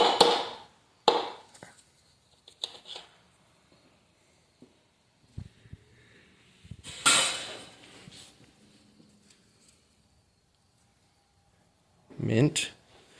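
A brass hammer taps on engine parts in a few sharp, scattered strikes spread across a quiet stretch, some louder bursts standing out near and close, with talk in the background.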